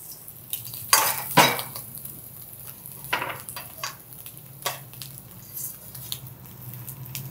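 Utensils clink and scrape in a pot as coconut pieces go into a temple-style sweet prasadam being prepared, a couple of sharper metallic clatters early on, then softer scattered taps and stirring sounds, close and moderately quiet.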